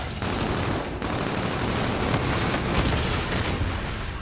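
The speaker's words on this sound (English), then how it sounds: "I'm throwing grenades" Grenade blasts and gunfire rumble through a video game firefight, a dense, continuous wash of booms and shots at steady loudness with no pauses and no voices.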